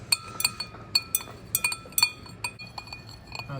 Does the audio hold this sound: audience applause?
no